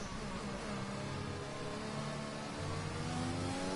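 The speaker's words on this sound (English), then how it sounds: "Wheel spinning his tyres there." Racing car in a video game wheel-spinning its tyres out of the pits at Mexico, a continuous whirring engine note with rising and shifting tones, moderately loud and steady, with a slight surge near the end.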